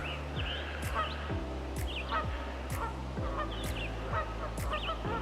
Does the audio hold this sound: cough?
no